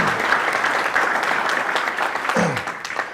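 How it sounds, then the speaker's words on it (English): Audience applause at a school construction science academy ribbon cutting, a steady, dense round of clapping from a crowd lasting throughout, with a brief voice near the end. "Let's give him a round of applause"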